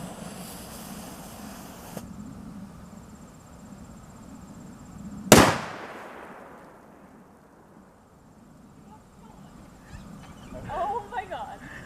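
A firecracker explodes inside a smoothie cup with a single sharp, loud bang partway through that rings out and fades over a couple of seconds amid quiet outdoor background.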